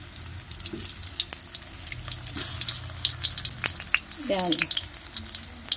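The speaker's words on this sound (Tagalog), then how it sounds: "magprito muna tayo ng saging." Bananas fry in a pan with a steady hiss and sizzle, crackling pops scattered throughout, close and fairly loud, with a few brief spoken words over the cooking noise.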